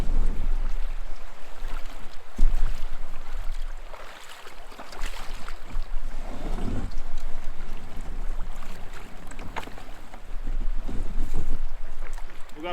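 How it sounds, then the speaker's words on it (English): A canoe being walked through shallow river water during a steelhead fishing trip, with continuous rushing water and wind buffeting the microphone, a loud splashy stretch midway, no talking. "Taking the canoe for a walk"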